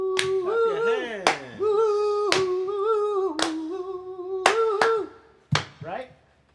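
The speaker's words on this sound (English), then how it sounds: "Clap your hands." Hand claps keep a beat for a jam, about five crisp claps spaced roughly a second apart, sounding over an ongoing melodic voice with some talking mixed in.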